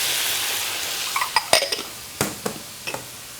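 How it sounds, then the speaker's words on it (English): Onions, roasted red and green peppers and wild mushrooms sizzle in a pan of wild boar hash, a steady hiss that fades a little, with several sharp utensil clinks against the pan. "all we want to do is let this cook down so our mushrooms soften and our onions become caramelized and translucent"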